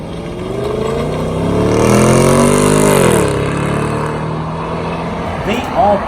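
A New South Wales Highway Patrol police car drives by with a smooth, subdued engine hum that swells and eases steadily, with faint voices in the background.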